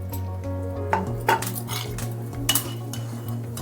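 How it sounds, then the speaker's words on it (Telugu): A metal pan clinks and scrapes on a stove as fenugreek seeds and a little oil go in for a Telugu greens chutney, with a steady low burner hum and a few sharp clinks. "కొన్ని మెంతులు వేసి కొద్దిగా ఆయిల్ వేద్దాం"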